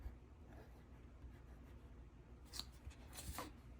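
A Pelikan M200 broad-nib fountain pen filled with shimmer ink writes faintly on paper, with soft, barely audible scratching that swells into a few brief, sharper strokes toward the end.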